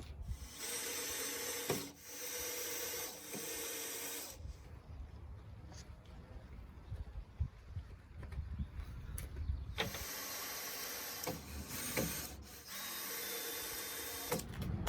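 Screws driven one after another into wood during a homemade ramp build, a powered driver whirring in bursts with pauses between, the board flipped to work the other side.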